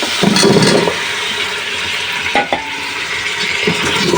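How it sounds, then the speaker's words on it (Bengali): Vegetables hit hot spiced oil in a pan and are stirred, giving a loud, close, continuous sizzle broken by a few scraping strokes of the spoon, with no one speaking. "এখন সবজিগুলো দিয়ে দিই"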